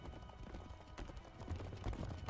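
Horse hooves galloping in open country, a steady rapid clip-clop of several beats that keeps on throughout, fairly close, with a faint whinny and no one talking.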